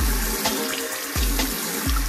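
Cool tap water pours steadily over a reborn baby doll's rooted hair during a shampoo, a close, continuous splashing stream with a few brief surges.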